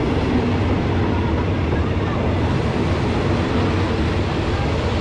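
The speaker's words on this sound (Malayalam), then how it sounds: "ട്രെയിന് വന്ന് കേട്ടോ, ഇതാ ട്രെയിൻ നമ്മുടെ." A train pulls into a station on the Death Railway, a loud, continuous low rumble and roar that holds steady throughout at close range.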